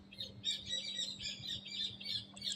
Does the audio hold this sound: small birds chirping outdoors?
yes